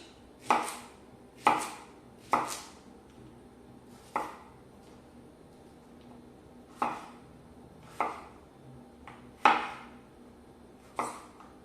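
A knife chops a leek into small pieces for a roasted tomato and vegetable soup, giving about ten sharp, separate board strikes at an uneven, unhurried pace, close by and clear over a quiet kitchen.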